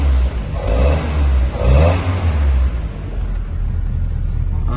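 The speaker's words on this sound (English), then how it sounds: "I don't know if you can hear it, but it sounds lovely, real crisp, sweet engine." A 1962 Land Rover Light 4x4 utility engine runs close by with a steady low rumble, rising in two short revs early on before settling back to an even idle.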